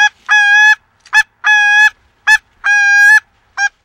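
Canada geese honking during a goose hunt in an open field, a few loud, close calls in a steady back-and-forth rhythm, each long honk followed by a short clipped one, with no talking.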